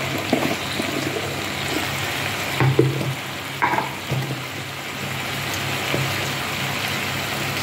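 Okra curry fries in a pan as turmeric powder goes in, a steady close sizzle broken by a few scraping stirs of the spoon, with no talking.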